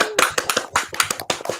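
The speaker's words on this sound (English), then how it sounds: "what about a massive round of applause for our very special guest" Applause for a special guest at a live improv comedy show, a burst of claps of fairly even, close loudness running throughout.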